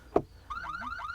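A car alarm bursts out after a short thump, sounding a loud, rising-and-falling electronic siren that repeats steadily, close by, with no talking over it.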